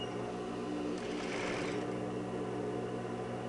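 A sewing machine hums quietly while its handwheel is turned by hand, a faint steady mechanical drone with a brief slightly louder patch of stitching in the middle.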